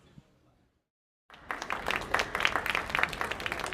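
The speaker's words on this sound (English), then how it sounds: "you don't have to clap" Audience applause at an interview event, a sudden dense burst of clapping that starts after a brief silence and keeps going steadily at close range.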